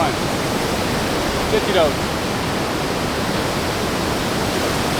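Murchison Falls roars as a dense, constant wash of rushing water, loud and steady throughout, with someone briefly speaking over it.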